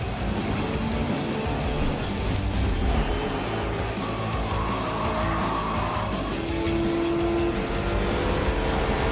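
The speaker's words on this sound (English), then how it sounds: "That's our Hemi, and it's saying, I'm back." Ram truck Hemi V8 roaring at a NASCAR Truck Series race in Atlanta, a loud continuous engine drone with the rising and falling pitch of passing race trucks, no talking.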